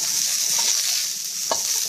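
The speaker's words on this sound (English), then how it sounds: "I'll let them go in here and get a little char on them." Chicken and bok choy stir-fry in a hot pan, giving a steady loud sizzle with a brief scraping stir near the end. No voices are heard.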